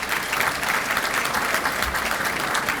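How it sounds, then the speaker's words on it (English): Steady, dense applause fills a large hall at the City of Suffolk State of the City address for the Commissioner of Revenue, a broad continuous wash of many hands clapping at once. "Let's give her a round of applause."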